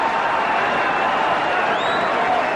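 A tennis crowd at the 1985 Forest Hills final between Lendl and McEnroe cheers and applauds McEnroe, a steady, distant roar of clapping and voices filling the stadium.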